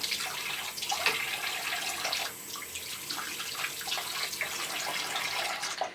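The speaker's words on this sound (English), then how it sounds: "I put some water on them, I swish them around a little bit, I put them in the soap, swish them around again" Makeup brushes are swished through water and soap, producing continuous close splashing and sloshing with small bursts of agitation, steady and fairly loud throughout with no talking.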